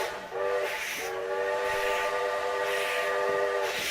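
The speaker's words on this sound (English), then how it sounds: "The running train." A running train sounds a long, steady horn or whistle with a couple of short breaks, over a continuous loud rumble of the moving cars.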